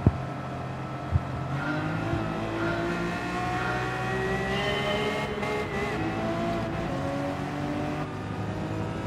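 A Ferrari 250 GTO engine revs and accelerates, a loud, sustained mechanical roar with rising and shifting harmonic tones, opening with a sharp click and a brief knock before the steady drive.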